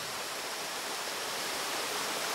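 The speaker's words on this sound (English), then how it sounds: "at particularly high tides, the water flows over the barrage" Water pours over a river barrage at a particularly high tide, a steady, dense rushing roar like a waterfall, continuous and fairly loud throughout with no voices.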